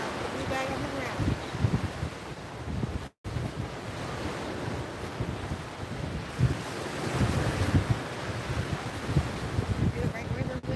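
Ocean surf rolling and breaking on a fishing beach, a continuous loud wash of waves with wind buffeting the microphone, a brief dropout near three seconds, and occasional voices under the roar.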